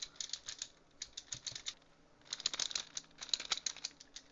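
A magnetic Rubik's cube is turned by hand, giving quick, light clicks in two rapid runs with a short pause between them. The sound is close and quiet, with no voice over it.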